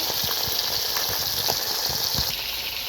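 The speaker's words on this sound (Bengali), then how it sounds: "মাছটা ভেজে নেব।" Rui fish sizzling as it fries in a pan, a dense steady hiss dotted with sharp little crackles and spits, heard up close with no talking.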